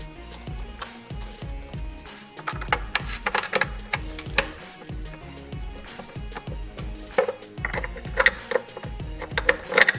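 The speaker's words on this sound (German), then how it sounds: "Die 3 Schrauben mit einer 10er Nuss und 10 Newtonmeter festziehen." A 10 mm socket tightens the three lower timing belt cover screws on a VW 1.4 80 PS engine, rapid ratchet clicking in close, busy bursts with metallic rattles and short pauses between runs.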